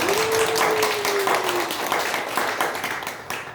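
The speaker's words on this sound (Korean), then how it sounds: "크게 들리게 박수 좀 쳐주십시오" A seminar audience at a memorial exhibition for General Kim Kyung-cheon in Gwangju claps together, a steady dense patter of applause, with a tonal whine sliding across the first moments.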